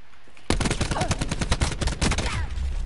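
Rapid automatic gunfire in Call of Duty Black Ops 4, shots fired through a wall during an online match, a dense burst starting abruptly and rattling on continuously and loud.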